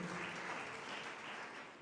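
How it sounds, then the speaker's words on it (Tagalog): Congregation at a church service applauding, a dense sustained clapping that fills the short stretch evenly at moderate distance, with no talk over it. "Palakpakan po natin ang ating mahal na Panginoon."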